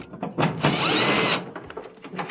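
A power drill runs steadily for under a second while removing screws from a Whirlpool dryer's blower housing, with scattered clicks and handling noises of parts and tools around it.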